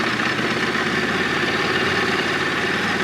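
A 2022 Ducati Desert X motorcycle engine idles steadily off-road on rocky dirt trails, a close, even low throb with a faint vibrating rattle, no talk.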